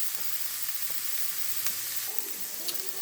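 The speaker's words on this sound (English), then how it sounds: "now that we have our onions and celery sauteed about 3 to 5 minutes" Onions and celery sauté in a pan for Thanksgiving stuffing, giving a steady close sizzle with a few light utensil clicks scattered through it and no voices.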